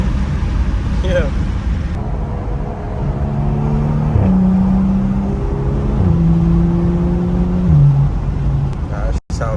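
A 2015 BMW 335i with a catless downpipe and deleted muffler revs in a series of stepped, droning exhaust pulls, loud and close, ending in a brief abrupt cutoff.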